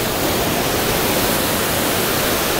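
Water pours steadily near the source of the Tolantongo River in Hidalgo, Mexico, a dense, continuous close-up rush of falling water with no voices over it.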